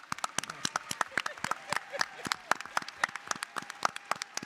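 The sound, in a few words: audience applause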